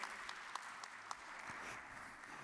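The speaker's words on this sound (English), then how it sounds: "Please give a big round of applause for Zahari Dolomanji." An audience at the Vienna International Energy and Climate Forum applauds a speaker taking the stage, steady dense clapping with a few sharper individual claps standing out, heard from a distance.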